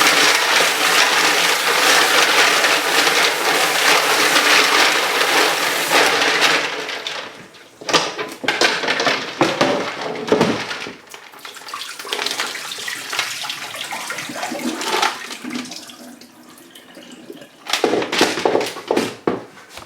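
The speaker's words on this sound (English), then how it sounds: "Rinse out your mussels first." Running water pours steadily as mussels are rinsed for moules marinière, a loud continuous rush that cuts off after several seconds, followed by intermittent splashing, clattering shells and bursts of water near the sink.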